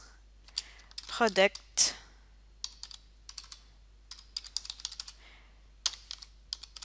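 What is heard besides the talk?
typing on a computer keyboard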